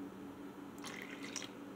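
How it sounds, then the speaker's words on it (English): Water poured into a bowl that already holds milk, for fixing up instant mashed potatoes at home; a short, quiet splashing trickle starts partway through and runs to the end, with no talking. "I'm going to put my water in here."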